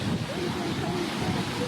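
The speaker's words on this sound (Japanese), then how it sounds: "雪解け水がゴーゴーと音を立てて流れています。" Snowmelt river rushing loudly beside a forest trail in spring mountains, a steady broadband roar of churning water that fills the whole clip without pause, with faint voice-like traces underneath.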